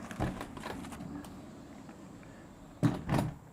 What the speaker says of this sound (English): the doors fold back